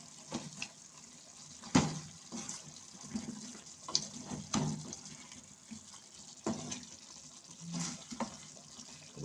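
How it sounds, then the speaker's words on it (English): Water poured into a pot of Jamaican curry chicken neck with cornmeal dumplings and yam, heard as faint splashing and sizzling bursts with a few louder clanks and gurgles, close but quiet, with no talking. "I go throw some water upon it"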